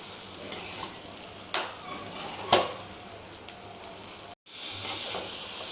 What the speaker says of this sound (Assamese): এতিয়া মই 2 মিনিট ল' ফ্লেমত ভাজি লম